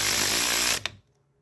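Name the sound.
electric driver driving screws, Chevy Blazer encoder motor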